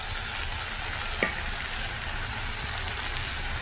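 Fish fries in mustard oil in a rural Indian village kitchen, a continuous, fairly loud sizzle close by with a single sharp tap near the middle. No one talks over it.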